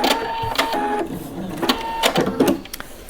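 A sewing machine takes a few stitches through lace underwear, a close, rhythmic mechanical clatter of needle strokes with small pauses between runs.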